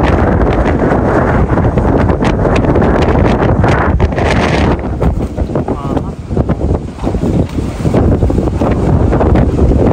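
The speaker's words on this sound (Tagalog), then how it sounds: "Oh, grabe, super lakas ng hangin dito." Strong storm wind in Greenland buffets and roars against the microphone, a constant loud rush that barely lets up.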